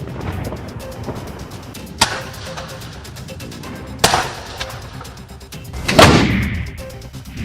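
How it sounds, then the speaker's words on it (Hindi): Cannon salute fired in central London for Queen Elizabeth II, with sharp booming reports at roughly two-second intervals over a busy outdoor crowd murmur, one shot trailing into a long rumbling echo. "उन्हें 96 तोपों की सलामी दी गई"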